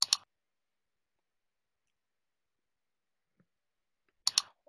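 A computer mouse clicks while software is saved and run. Two quick, close, quiet clicks sound about four seconds apart, with near silence between them.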